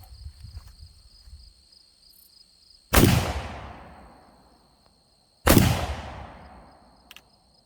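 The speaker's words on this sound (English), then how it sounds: "I'm going to shoot the front barrel at the bottom and the back barrel at the top." An antique Belgian 12 gauge double-barrel shotgun fires two loud, close blasts about two and a half seconds apart, each ringing out in a long fading echo, with quiet outdoor ambience and faint insects in between.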